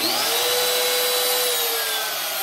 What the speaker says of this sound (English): This is actually a trim router.